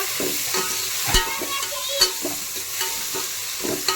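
Cabbage fry being stirred in a pan: a spoon scrapes and turns the vegetables in repeated strokes about every half second, close and clear, over a soft continuous sizzle.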